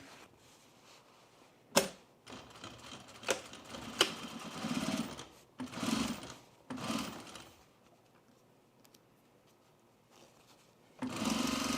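A sewing machine stitches two cut pieces of men's jeans denim together in short bursts, with several quick clattering runs separated by pauses and a longer steady run at the end.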